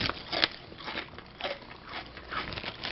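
Crisp crunching as a kettle-cooked potato chip is bitten and chewed, several brittle cracks in close succession, heard up close with no talking.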